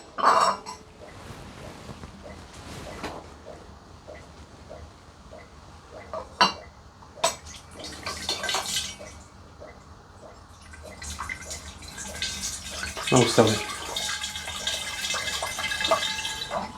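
Apple juice is stirred and poured into a glass demijohn, with clinking of utensils against glass, trickling and splashing liquid, and a few sharp knocks, while a brief remark is spoken partway through.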